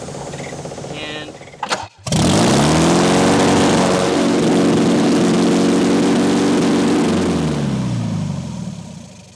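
An MGB GT engine with open intake and exhaust cranks, catches and runs loud and close, a steady rough rumble with a slight throttle rise after a brief stutter at startup.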